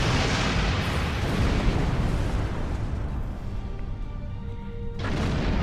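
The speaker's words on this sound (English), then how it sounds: "when to fire your phasers or when to fire your photon torpedoes" Phasers and photon torpedoes firing in the space combat game Star Trek Online, a dense run of booming blasts and explosions heard throughout, with a brief rising tone near the end.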